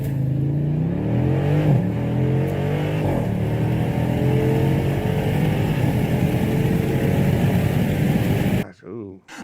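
A Jeep SRT engine accelerating hard, a loud, steady engine roar with rising pitch sweeps as it climbs through the gears, close and continuous before cutting off abruptly near the end.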